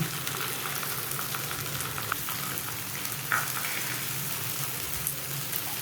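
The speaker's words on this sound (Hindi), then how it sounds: "तकरीबन आपने 2 से 3 मिनट जो है इसकी एक साइड को फ्राई करना है" Fish sizzling steadily on a hot tawa griddle, a soft continuous crackle like light rain with a few faint pops and clicks, no talking.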